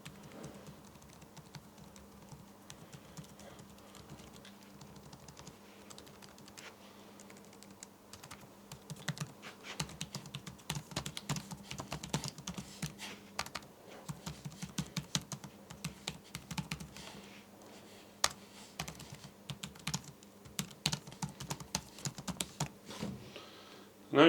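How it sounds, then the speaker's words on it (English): Basic typing on a Seenda wireless Bluetooth keyboard, recorded about 10 cm away: quiet, irregular clusters of soft key clicks that grow busier after a slow start, with brief speech. "let's just do some basic typing."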